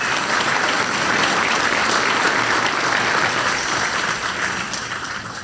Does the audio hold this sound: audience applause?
yes